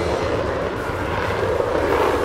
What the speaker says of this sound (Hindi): ये विमान है फ्रांस में बना, मौजूदा वक्त में दुनिया के सबसे बेहतरीन विमानों में से एक, राफेल।